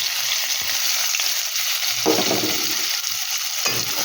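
Sliced onions hit hot mustard oil in a kadai already tempered with black cumin seeds, hissing in a steady loud sizzle that swells as they are stirred, with no voices over the frying.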